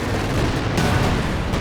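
Dense, continuous battle noise from a Company of Heroes 2 match, with an incoming strike rumbling amid steady loud gunfire and booms for the whole stretch.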